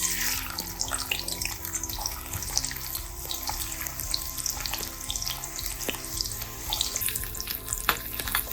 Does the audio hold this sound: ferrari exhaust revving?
no